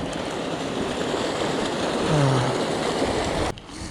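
A small mountain creek flows with a steady, close broadband rush on a snowy trail, continuous and fairly loud before dropping abruptly near the end.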